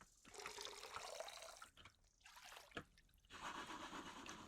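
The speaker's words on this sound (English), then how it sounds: "Dip the gold pan in the water and give it a good shake" A gold pan dipped and shaken in water in a gold-mining simulator game: splashing, sloshing water with bursts of swirling and a couple of sharp drips, faint and close, with no voices.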